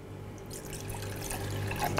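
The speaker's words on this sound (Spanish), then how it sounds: "Ponemos el agua" Water pours steadily into a mixing bowl while making a mint gel with sugar syrup, chopped mint and vanilla, a close, continuous splashing trickle with small drips, alone without speech.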